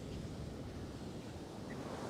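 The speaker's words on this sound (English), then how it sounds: "The waves are a little bit bigger today." Ocean waves break on a beach, a faint, even roar of surf with no distinct crashes and no voices.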